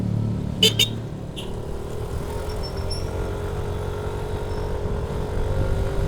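A Yamaha NMAX scooter accelerates to 80 on a mountain road, a steady engine drone with slowly rising pitch under wind rush. A few sharp clicks come near the start.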